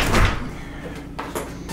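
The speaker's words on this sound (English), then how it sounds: "The door." A house door opens with a short burst of rattling and a knock-like thud, followed by a couple of smaller clunks as it swings and settles.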